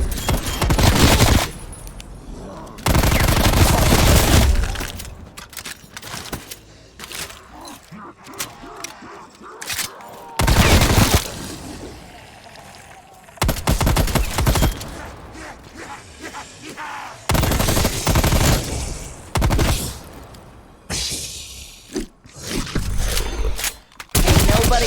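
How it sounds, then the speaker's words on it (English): Shotgun fire in Black Ops Cold War Zombies rings out in loud, repeated heavy blasts separated by short gaps, with game effects and mechanisms clattering between shots. "Ain't nobody arguing with a shotgun."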